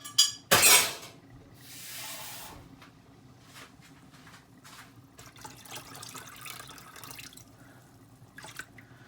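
Tap water runs into a cooking pot for salted water to boil aubergine: a sharp clink and splash at the start, a brief rush of pouring, then quieter trickles and drips.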